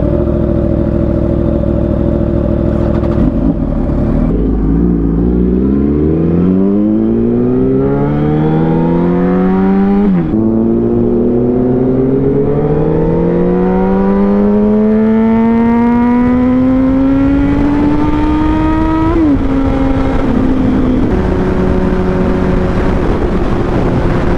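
Yamaha R1 sport bikes accelerating hard, engine pitch climbing in long rising sweeps with a sharp drop at each gear change, loud and close over steady wind rush.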